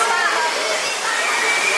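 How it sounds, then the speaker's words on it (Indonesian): A waterfall inside the Cloud Forest dome in Singapore gives a steady, loud, close rush of falling water that pours on without a break, with faint voices from the busy viewing spot mixed into the roar. "Jadi dari sini langsung kelihatan persis di samping air terjun."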